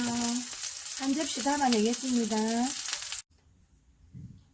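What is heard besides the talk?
oyster pancake frying in a pan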